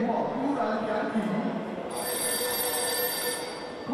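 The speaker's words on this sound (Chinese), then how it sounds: "台中水南机场勤务中心电话突然响起" A telephone rings at a Taichung Shuinan airport service and duty center, its bright electronic trill starting partway through and repeating steadily over a busy background of indistinct voices and room noise.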